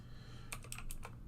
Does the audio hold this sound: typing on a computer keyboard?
yes